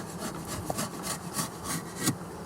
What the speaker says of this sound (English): I'm going to scrape this off.